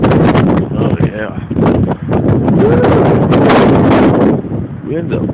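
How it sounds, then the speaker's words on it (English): On a snowy, icy winter day outdoors, gusty wind buffets the microphone with loud rumbling, and a person talks over it. "Wind up blowing out here."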